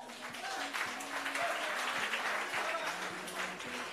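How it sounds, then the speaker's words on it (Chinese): An indoor audience applauds at a wrap party for a TV drama, a dense, steady wash of clapping throughout with faint voices underneath. "掌声鼓励"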